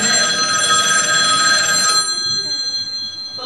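A telephone rings on stage during a school theatre production of the comedy "Ζητείται Ψεύτης", a steady electronic trill that lasts about two seconds and then cuts off, leaving quiet stage voices and room sound.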